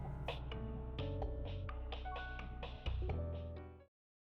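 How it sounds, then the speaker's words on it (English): A telephone rings in the Cafe Enchante video game, a bright melodic ringtone repeating in steady pulses over a soft sustained background, then stopping abruptly. "Mom's on the phone."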